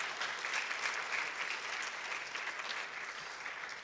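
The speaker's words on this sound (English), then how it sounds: "So let's give her a big round of applause." Audience applause fills an awards ceremony hall, a steady wash of clapping from many hands that holds for a few seconds before easing off slightly at the end.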